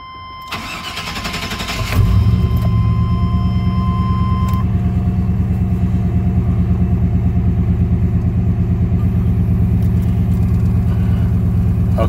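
A Chevy 5.7 Vortec V8 cranks and fires, then settles into a steady, even idle after a spark plug and wire change, loud and close with no voices.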